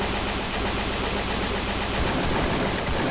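Gunfire in the Free Fire shooter game comes as dense, loud, continuous rattling bursts of automatic shots, rapid and unbroken for about three seconds.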